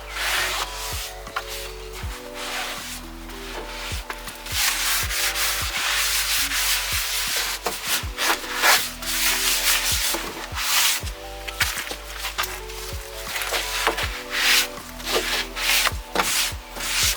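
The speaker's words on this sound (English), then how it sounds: "Once the dresser was clean and dry, I went in with 180 grit paper" A wooden dresser is sanded by hand with 180 grit sandpaper, the close, loud scratchy rubbing running in repeated back-and-forth strokes with brief pauses between passes.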